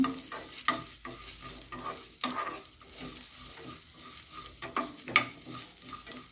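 Ginger, garlic and spices sautéing in a pan for broccoli gravy, with steady sizzling and repeated scraping stirs, plus occasional louder clinks of a spoon against the pan.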